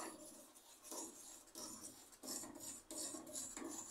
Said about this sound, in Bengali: নাড়া বন্ধ করলে হবে না,